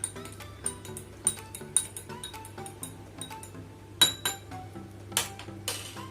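A metal spoon stirring honey into a herbal ginger drink in a glass, giving repeated light, ringing clinks at an irregular pace throughout, close and clear, with no talking.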